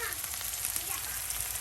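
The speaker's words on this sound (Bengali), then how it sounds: "আর এই যে এখন দেওয়া হচ্ছে আরো বাটা মশলা, আদা জিরা" Spice paste of ground ginger and cumin sizzles and fries in a hot pan, a steady bright crackling hiss that is brief and continuous, with no talking.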